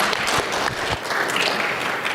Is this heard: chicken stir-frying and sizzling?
no